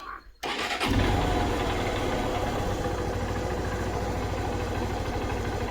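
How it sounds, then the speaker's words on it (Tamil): A two-wheeler engine fires up after a short pause and settles into a loud, fast, high idle that stays constant and close to the microphone, with no talking over it. "அப்போ வண்டி ஸ்டார்ட் பண்ணாங்களான்னா ரேஸ் அதிகமாக இருக்குது"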